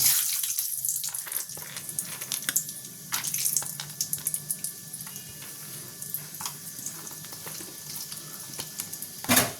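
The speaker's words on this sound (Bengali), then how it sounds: "এরপর আমি কাজু ভেজে নেব।" Cashew nuts frying in a pan for chirer polao, with a steady close sizzle and crackle and light scraping stirs across the pan, no voices.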